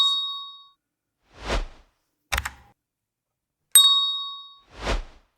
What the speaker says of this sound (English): And hit that notification bell for more updates.